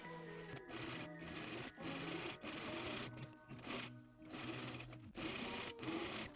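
A sewing machine stitches a silk couture dress seam in steady, close-up running bursts broken by brief pauses, with the motor's hum and needle clatter clearly alone.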